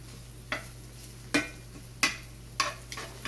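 Cabbage and squash fried in grease and stirred in a pan, with four or five sharp utensil scrapes against the pan at a slow rhythm over a faint sizzle and steady low hum, close by.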